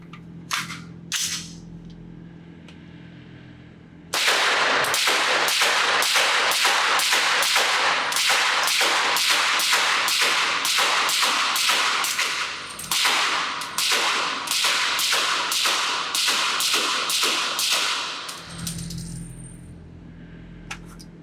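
A magazine of rifle rounds fired in quick succession through a Huxwrx Ventum 762 flow-through suppressor at a range, about two dozen sharp cracking reports in a rapid, slightly uneven cadence with a brief pause midway, loud and close.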